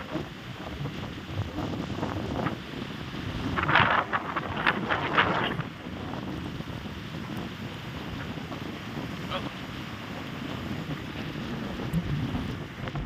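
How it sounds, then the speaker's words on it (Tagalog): Strong wind at a beach in Pagudpud, Ilocos Norte rumbles and buffets against the microphone, with a surge of gusts midway and a steady roar of surf beneath. "Yung hampas ng hangin niya ay hindi pangkaraniwan."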